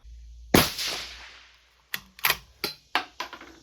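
A 22ARC rifle fires a single shot of an 80.5gr Berger bullet loaded in 6.5 Grendel brass, a sharp close crack with a short decay, followed by a series of crisp metallic clicks and clacks from the action.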